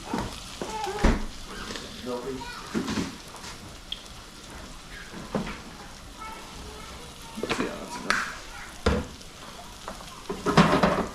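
A flour and butter roux cooks in a pot with a steady soft sizzle and frying crackle, broken by occasional louder stirring scrapes and clanks, while someone talks nearby.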